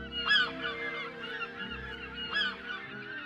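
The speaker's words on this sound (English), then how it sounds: "That wonderful laughing call of the herring gull, throwing back its head and making that extraordinary noise." Herring gull giving its laughing call, two bursts of loud, harsh, yelping notes about two seconds apart, the second answering the first, heard clearly under a soft background of music.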